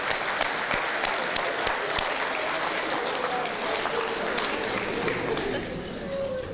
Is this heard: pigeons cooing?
no